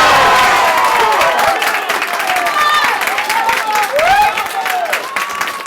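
A Sunday league football crowd at a cup final cheering and clapping after a headed goal, loud bursts of applause and whoops close by, with someone talking over the noise.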